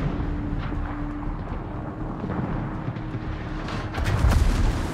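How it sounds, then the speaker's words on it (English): Naval gunfire from warships in World of Warships, with distant rumbling booms under a constant background roar and a heavier blast rising near the end. "Concentrate fire on the enemy warship."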